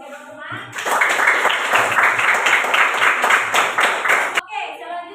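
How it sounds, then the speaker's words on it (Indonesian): Classmates in a classroom burst into sustained applause, many hands clapping densely and loudly for about four seconds before stopping abruptly, with faint voices murmuring before and after. "Berikan aplaus untuk teman-teman."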